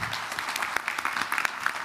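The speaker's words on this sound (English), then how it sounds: "I hope everyone will show them their appreciation and applause" Audience applause at a bio summit conference, a steady patter of many hands clapping at moderate volume, continuing evenly throughout without any voices.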